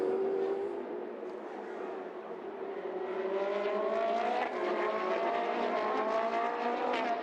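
Trofeo Pirelli race cars at Mugello Raceway, engines revving hard and climbing in pitch as cars accelerate past, loud and continuous with overlapping engine notes and no voices.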